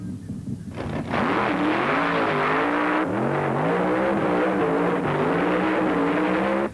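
Nitro-fuel dragsters roar down the strip at a 1972 drag racing meet, a loud sustained engine howl rising in pitch with a second surge after a few seconds, close and unbroken.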